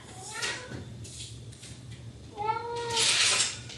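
A pet cat meowing indoors, a short soft mew followed by a louder, drawn-out call near the end, with faint household rustling between them.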